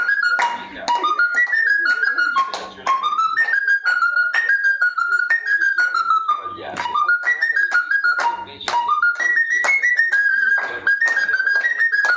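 A whistle blown in a lively Sicilian tarantella, a run of quick, bright melodic phrases that rise and fall over steady accompaniment, loud and continuous for the whole stretch.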